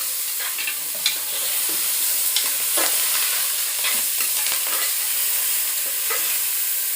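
Onions frying in a pan for pulao give a steady close sizzle, with scattered scraping taps from stirring throughout and no talk.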